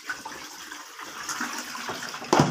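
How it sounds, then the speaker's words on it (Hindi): Water splashes and drains away from bitter gourds that were rubbed and rinsed several times, with a steady trickle and a louder gush near the end, heard close in a kitchen. "इसको इस तरह मल मल कर वाश करना है 4 से 5 दफ़ा, इसका पानी ड्रेन करके"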